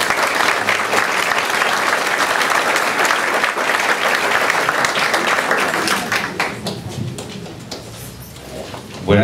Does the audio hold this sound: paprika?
no